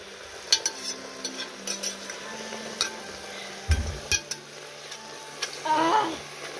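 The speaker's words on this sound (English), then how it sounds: "Now give it a stir." Marinade stirred in a pot with a utensil, giving soft intermittent scrapes and light clinks close by, and a brief splashy swirl near the end, fairly quiet throughout.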